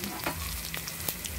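Pork sautéing in a pan for mung bean stew, a steady low sizzle with a few soft stirring clicks, close and fairly quiet, with no talking.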